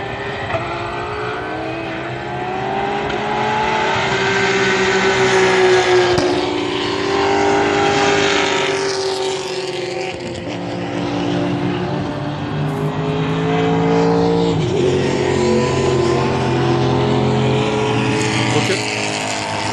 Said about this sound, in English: The Porsches are already just coming up the bend.